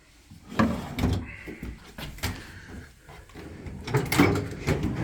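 A Husky metal toolbox drawer slides open and shut a few times, with rolling metallic scrapes and clunks close by in a garage setting.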